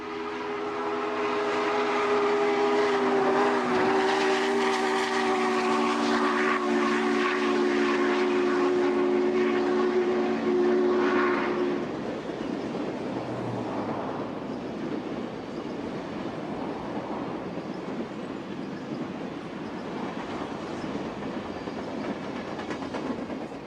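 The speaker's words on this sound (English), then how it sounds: "The train speeds past grain elevators which stand sentinel along the track." A Union Pacific Challenger steam locomotive speeds past grain elevators, a loud roaring rush with a sustained whistle-like tone early on, fading into rumbling train noise and rail clatter as it passes.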